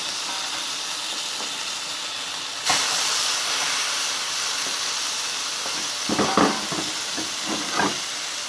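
Steamed chicken pieces set onto a hot, lightly oiled frying pan, giving a steady loud sizzle and hiss that swells sharply partway through, with a few louder crackling spits near the end.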